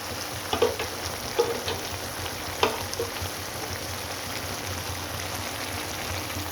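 Chili powder is stirred into a frying brinjal and potato curry, giving an even sizzle with a few distinct spoon scrapes and taps early on.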